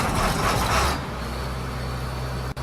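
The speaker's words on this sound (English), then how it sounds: "Listen to the sound of the engines first." John Deere combine engines run with a heavy, steady diesel rumble that eases slightly after a second, with a brief sharp click near the end.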